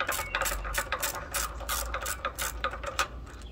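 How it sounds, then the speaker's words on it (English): A wrench loosening the bolts on a petrol pressure washer pump, heard close up as a rapid series of short ratcheting and scraping strokes in an uneven rhythm, with no talk. "So I'm just going to loosen the bolts."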